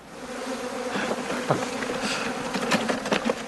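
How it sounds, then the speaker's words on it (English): A swarm of honeybees hums in a dense, continuous buzz on a Victorian-era farm. Individual bees whine louder as they pass close by. "I'm going to wait for a local beekeeping expert to come and help me wrestle this swarm"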